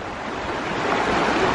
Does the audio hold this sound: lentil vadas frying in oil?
no